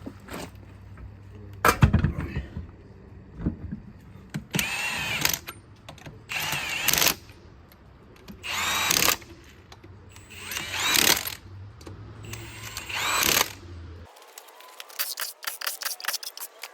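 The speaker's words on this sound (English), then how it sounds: "So I'm grinding the rear hub also, even though it's not currently necessary." A power tool grinds the rear wheel hub of a 1991 Toyota Land Cruiser in several separate harsh bursts, each a few seconds long, with quieter stretches between them and no talking.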